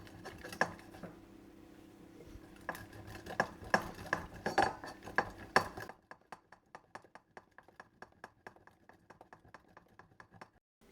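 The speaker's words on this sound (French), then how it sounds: "il n'y a plus qu'à râper tout le fromage" Aged Gouda being grated by hand, a faint series of quick scraping strokes with small clinks, denser at first, then lighter, evenly spaced rasps.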